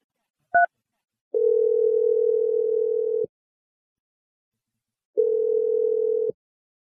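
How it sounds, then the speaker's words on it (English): Telephone dialing on a call placed to a woman's number: a brief two-tone keypad beep, then two long steady ringback tones separated by a pause of silence, clean and close. "I'm dialing her number right now."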